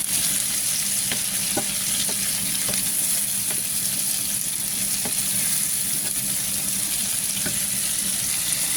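Mushrooms fry alongside steak in a pan, making a steady, even sizzle with scattered small pops and occasional utensil taps, heard close and without talk.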